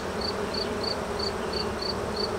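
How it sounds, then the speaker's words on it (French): Honey bees buzz around open honey supers at a swarming hive, a steady, close, droning hum with no voices. "il y a des abeilles partout"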